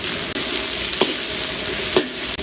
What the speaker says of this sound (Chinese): 把这油给它往这扒拉扒拉